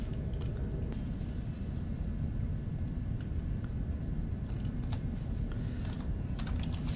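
Rapid typing on a computer keyboard, with sharp key clicks in an uneven, steady rhythm over a constant background hum.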